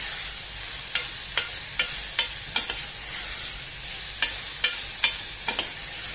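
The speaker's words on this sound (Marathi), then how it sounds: "हे सगळे सुके मसाले याच्यात टाकून देते. ते पण चांगले परतून घेते." Dry spice masalas, garlic masala and kitchen king masala, being sautéed in a pan for a rustic pigeon pea amti: steady close sizzle with repeated sharp spoon scrapes against the pan, no talking.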